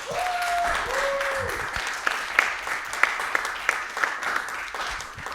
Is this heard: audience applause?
yes